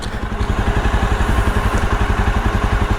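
A Jawa Bobber 42 motorcycle engine idles close by with a steady, loud, thumping beat that stays even throughout, with no voices.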